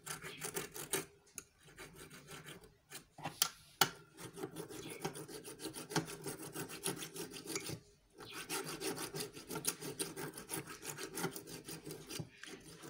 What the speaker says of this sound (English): So you use something like this, something, to scrape inside the groove so that the rings will be easy to